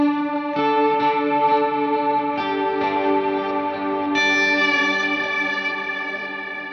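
Sustained electric guitar chords run through an HX Stomp pedalboard with lush reverb, each strum ringing out and blooming into a long wash of ambience, loud and steady with no voices.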